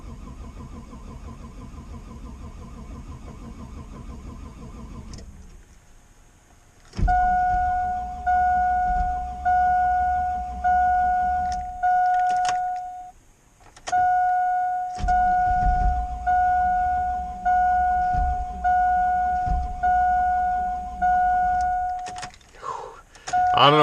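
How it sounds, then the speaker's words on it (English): An E85-fuelled car engine cranks slowly in extreme cold near minus fifty, the starter groaning in a laboured pulsing rhythm through repeated long attempts with short pauses between them, accompanied by a steady electronic warning chime. "She's cranking slow."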